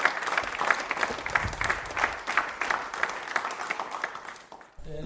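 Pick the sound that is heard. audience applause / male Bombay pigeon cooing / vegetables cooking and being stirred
audience applause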